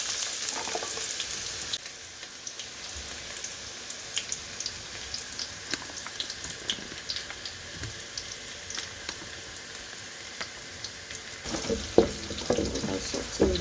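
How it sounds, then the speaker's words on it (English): Chopped onions sautéing in hot oil for Nigerian fried rice, giving a steady low sizzle throughout with a few light clinks and stirring sounds near the end. "So my oil is hot enough. I'll be adding onions."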